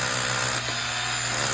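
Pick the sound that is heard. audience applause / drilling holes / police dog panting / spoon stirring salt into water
drilling holes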